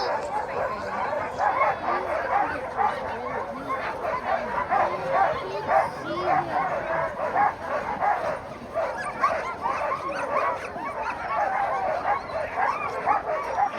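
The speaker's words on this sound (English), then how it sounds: "there's our mushing dogs. These are the dogs of the Iditarod." A crowd of Iditarod sled dogs barks, yips and whines continuously and excitedly, many voices overlapping in a dense, busy chorus, with some human talk mixed in.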